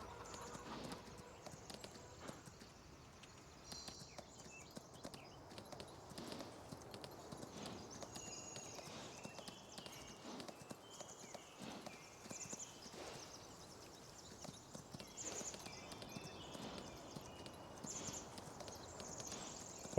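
Steady clip-clop of hooves at a walking pace in Farming Simulator 19, with a busy game soundscape behind it and occasional faint effects.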